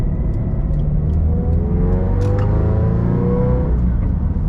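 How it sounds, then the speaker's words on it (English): Subaru BRZ / Toyota 86 boxer engine with an equal-length exhaust, a steady loud close rumble with a smooth, even drone throughout and no voices. "Damn, this car sounds so good."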